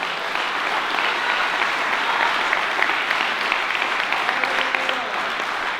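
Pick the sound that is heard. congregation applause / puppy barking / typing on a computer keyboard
congregation applause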